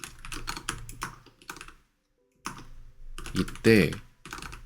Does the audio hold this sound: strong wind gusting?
no